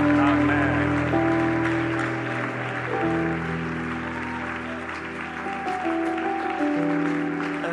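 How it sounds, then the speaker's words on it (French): A church congregation claps and cheers steadily under sustained organ-like chords and music, the applause dense and continuous throughout. "est-ce qu'on peut l'encourager par nos acclamations? Acclamons le Seigneur."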